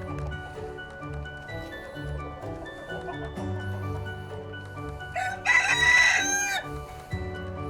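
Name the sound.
chickens clucking and rooster crowing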